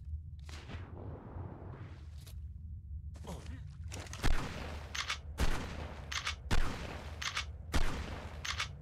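Shotgun blasts in the survival video game ARK: Fjordur, in a forest, with several loud booming shots spaced about a second apart, each with a long tail, over steady game ambience and no talk.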